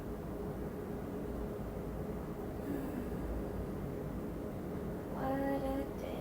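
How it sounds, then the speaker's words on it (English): A train arriving, a steady broad rumble for several seconds that ends in a few high squealing tones, no speech. "Besides the train that always comes for me anyway."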